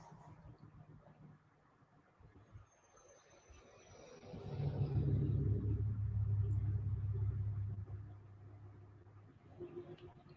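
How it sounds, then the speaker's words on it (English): A loud car with no muffler drives by outside, its deep rumbling exhaust swelling up, holding for a few seconds and then fading away over faint background sound. "Lack of muffler guy's back."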